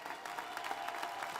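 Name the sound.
applause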